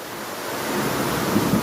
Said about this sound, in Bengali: অনেক ভারী বৃষ্টি, একদম অনবরত বৃষ্টি পড়তেছে, যাকে বলে মুষলধারের বৃষ্টি